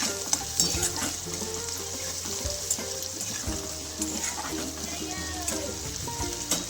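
Onions frying in a pan until reddish, a steady close sizzle with light stirring scrapes, moderately loud and continuous, with a faint voice now and then underneath.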